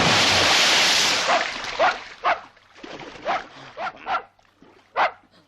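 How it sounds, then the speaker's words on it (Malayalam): A dog near a pond in a comedy film scene barks about six times in a loose, uneven series, right after a loud burst of rushing noise. "പട്ടിയായിരുന്നു."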